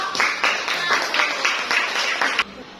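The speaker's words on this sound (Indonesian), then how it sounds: "Tepuk tangan untuk kelompok" A classroom group claps together in a brief round of applause, steady and fairly close, ending abruptly.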